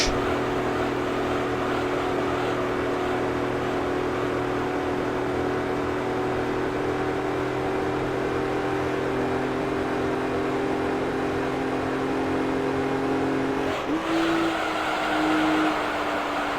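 A car engine in Gran Turismo 3: A-Spec, during an amateur 4WD challenge race, drones steadily at high revs with sustained tonal whine, then shifts pitch abruptly near the end, loud and continuous with no talk.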